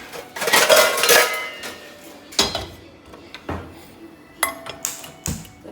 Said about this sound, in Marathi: चला, आता कढई घेते.